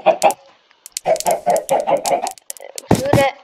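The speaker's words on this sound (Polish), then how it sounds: "A tutaj są kurczaki." Several chickens clucking at close range in short, uneven bursts, with louder squawks near the end.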